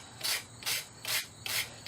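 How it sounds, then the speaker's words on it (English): Sandpaper or a rock flattening the rounded end of a hand mouth-drill spindle: four even rasping strokes about half a second apart, close and dry, with no talking. "So we're going to take our sandpaper or our rock"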